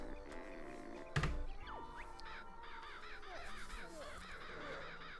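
A pet crow-like bird caws repeatedly while being fed indoors, its harsh calls recurring over steady background hum, with a loud thump near the start.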